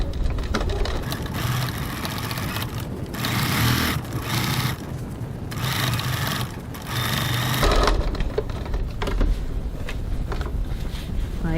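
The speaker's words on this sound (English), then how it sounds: "now I'm just going to baste using a 6mm 1/4 of an inch seam just to hold them laying outwards" A sewing machine basting opened darts with a 6mm (quarter-inch) seam on a crossbody bag runs in several close bursts of rapid stitching with short pauses between them.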